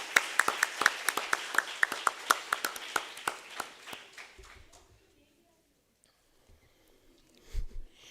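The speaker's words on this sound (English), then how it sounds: "can we have a big round of applause for the person who made the video?" A small audience at a law school negotiation competition's closing ceremony gives a round of applause of sharp, scattered hand claps that gradually thin out and fade, followed by quiet and a brief murmur of voices.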